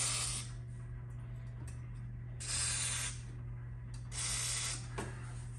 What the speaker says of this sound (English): I'm going to spray into these holes here that are in the seat frame.